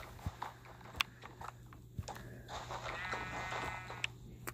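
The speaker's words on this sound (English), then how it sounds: "Can I hear sheep?" Faint sheep bleats rise out of a quiet video game soundscape, with a low steady hum and scattered soft clicks and footsteps around them.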